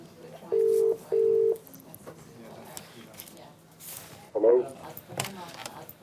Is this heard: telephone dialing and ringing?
yes